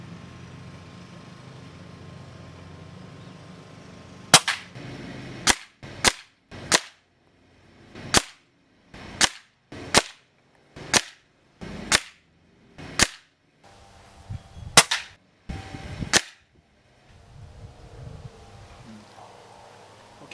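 Benjamin Marauder .22 caliber air rifle with walnut stock firing pellets outdoors, a dozen sharp, loud snapping shots at irregular intervals of about half a second to a second, with quiet gaps and faint background noise between them.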